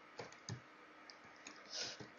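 Quiet clicks of a computer keyboard being tapped during a session of the game RotMG, with irregular light keystrokes and a few louder hits and rattles, close and faint with no talk over them.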